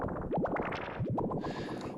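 A synthesized bubbling effect made in the Vital synth, quick rising blips and gurgling pops in a couple of bursts over a soft watery wash, close and moderately quiet with no voice.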